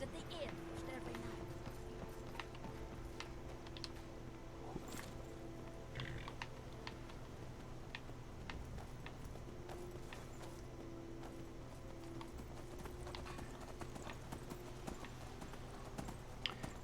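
Horse hooves clip-clop steadily in the video game Skyrim while a brown and white horse is ridden, a rhythmic faint trot under continuous talk, with keyboard clicks scattered throughout.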